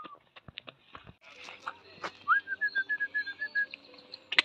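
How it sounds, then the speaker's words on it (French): A person whistles a rising note followed by a quick series of short repeated chirping whistles to call a caged caracal at an animal refuge, close and clear over light background noise. "Ça sert à rien de siffler, il va pas."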